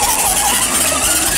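A Dareway segway ride-on toy rolls across grass with a steady whirring, rushing drone and a faint high squeal, close and continuous with no voices.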